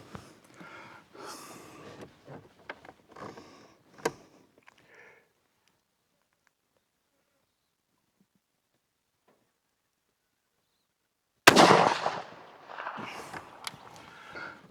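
A .223 FMJ rifle shot at a milk jug 200 m downrange, one sudden loud crack after a long silence, followed by rustling and handling noise; light movement sounds earlier too.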